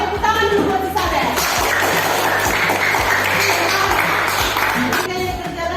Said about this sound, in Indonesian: Ayo tepuk tangan dulu buat si sahabat.